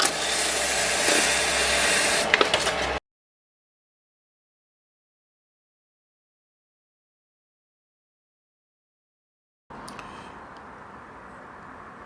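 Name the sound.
hand sanding wood with sandpaper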